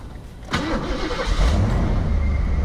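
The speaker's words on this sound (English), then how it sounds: "This car's been sitting for years and years, and it just starts right up" An old convertible that has sat unused for years cranks and fires right up at about half a second, then settles into a steady, loud, close-up idle with no talking.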